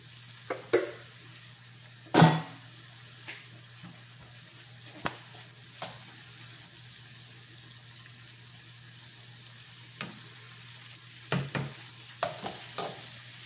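Hot oil frying pork curry in a pan, a faint background sizzle broken by sharp, scattered pops and clanks of stirring, with no voices.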